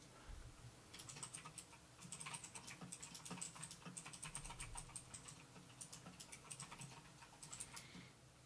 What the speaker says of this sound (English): That is some loud mic typing, again.